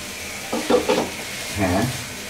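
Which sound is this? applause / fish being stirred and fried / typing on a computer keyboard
fish being stirred and fried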